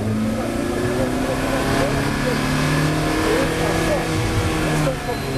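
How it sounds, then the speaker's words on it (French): A Ferrari F430 Challenge race car accelerates hard, its engine note steady and loud with rising harmonics over several seconds, with an instructor talking throughout. "On va accélérer assez tôt et assez fort."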